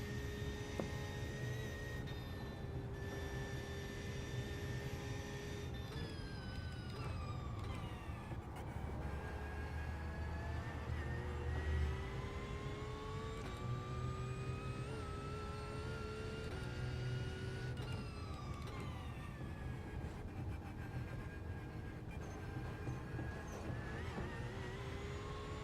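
A race car engine holds full throttle on a wet Nürburgring in iRacing, a steady, droning high-revving tone that rises and falls gently through gears, fairly quiet and unbroken throughout.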